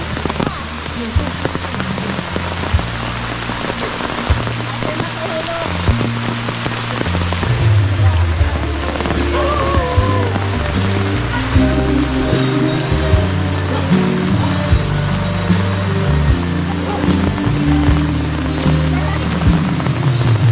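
Heavy rain pours down on surfaces at a rural provincial wedding, a loud, constant drumming patter that runs throughout with low rumbling underneath.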